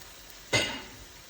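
Beef sears in an enameled cast iron pan, a sudden loud sizzle bursting in, then slowly fading over quiet kitchen background, with no voices.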